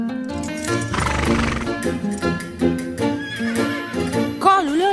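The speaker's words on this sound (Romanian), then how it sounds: "Calul ăla sună ca... tornado!" A horse neighs in an animated Zorro cartoon, its whinny rising and falling near the end over loud, continuous orchestral music, with possible hoofbeats blended into the score.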